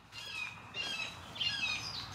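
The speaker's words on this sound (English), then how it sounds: "Noisy birds outside too." Noisy birds outside on a homestead, squawking and chirping in repeated bursts, moderately distant and faint against quiet outdoor background.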